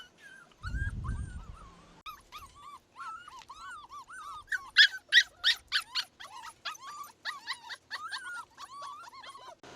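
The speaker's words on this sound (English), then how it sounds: "here are the puppies that we have" Young puppies whimper and yelp in a rapid, high-pitched string of squeaky cries, growing louder and more insistent midway, preceded by a brief low rumble at the start; no talking.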